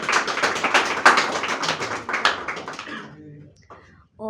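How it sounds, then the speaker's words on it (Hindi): Audience applause at a Hindi poetry (shayari) event, dense clapping for about three seconds that thins out and fades, followed by a short bit of talking. "और एक बार ज़ोरदार तालियां आप सबके लिए"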